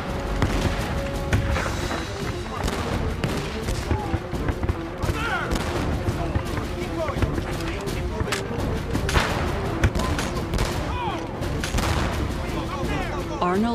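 Rapid, overlapping musket shots crack through a dramatized attack on Quebec's Lower Town beneath the city walls, loud volleys with sharp reports and booms packed closely together, with speech heard faintly among the gunfire.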